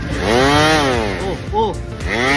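A discarded wood sanding power tool, pulled from the trash, starts up and runs loudly nearby. Its motor whines and rises and falls in pitch through the short stretch.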